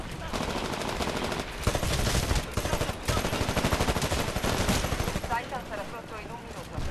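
Rapid, loud machine-gun fire in the Titanfall video game on Xbox One, pounding in steady bursts almost the whole time with a couple of brief pauses, close and dominant.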